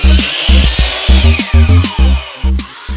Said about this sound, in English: Now I just want to cut all the reclaimed 2x4s to length.